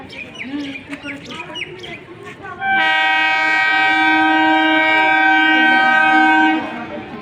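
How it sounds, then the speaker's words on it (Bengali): A train pulls into a crowded station platform and sounds a loud, sustained horn of about four seconds, following a stretch of rumble, chatter and bird chirps; the horn cuts off and the rumble continues. "আমার ট্রেন ঢুকছে"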